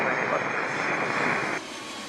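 An airliner at Atlanta's Hartsfield-Jackson airport on or near runway 8 left gives a steady, loud broadband engine roar that holds for about a second and a half, then drops off abruptly to a softer rumble.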